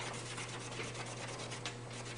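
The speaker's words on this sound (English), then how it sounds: "just take some emery or sandpaper and clean that stuff off of there" Steel knife blade being cleaned with emery cloth or sandpaper in a knifemaking shop, giving a steady, close, continuous rubbing and scratching sound with even strokes and no talk.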